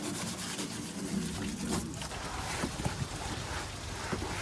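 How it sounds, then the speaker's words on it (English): A small paintbrush scrubs dirt off a Series 3 Land Rover in close, continuous rough brushing strokes, with occasional light knocks and some breezy noise behind. "A little paintbrush comes in handy, folks."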